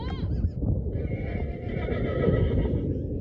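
A horse whinnies loudly and close, a long high neigh over a rumbling, windy outdoor background.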